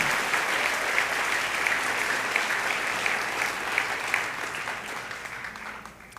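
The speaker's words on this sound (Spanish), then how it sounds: "Denle ese aplauso al Rey en esta hermosa y linda mañana." A church congregation applauds steadily, a dense wash of clapping that holds for several seconds and slowly tapers off.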